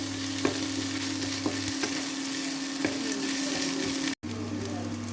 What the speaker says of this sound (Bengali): এবার আদা রসুনের পেস্ট দিয়ে দিচ্ছি। এটাকে ভালো করে লাল লাল করে নেবো আদা রসুনের পেস্টটাকে।